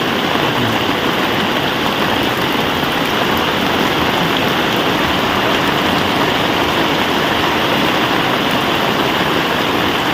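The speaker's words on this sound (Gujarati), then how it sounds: "જો ફૂલ વરસાદ ચાલુ થઈ ગયો" Heavy monsoon rain roars down loud and close in a village in Botad, Gujarat, a thick constant patter of drops hammering a surface with a faint low rumble beneath.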